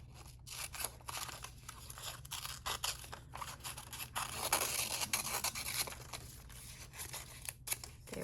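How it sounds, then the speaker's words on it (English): Scissors cutting along a line through a paper rectangle for a kids' craft bracelet project, steady close snipping and rustling of paper with scraping texture, no talking. "Then I'm going to cut out the big rectangle one more time"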